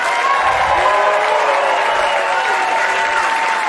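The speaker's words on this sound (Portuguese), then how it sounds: "Um monte de aplausos para ela" A live comedy show audience gives the cast a sustained round of applause, loud, dense and even clapping filling the room with a little cheering underneath.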